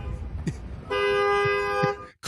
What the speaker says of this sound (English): You can hear someone's car alarms going off.